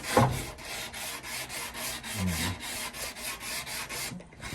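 Rough, rhythmic rasping strokes scrape back and forth across a surface, close and steady, like sandpaper rubbed over wood.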